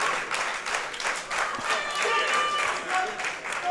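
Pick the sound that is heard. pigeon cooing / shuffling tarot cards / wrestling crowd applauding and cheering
wrestling crowd applauding and cheering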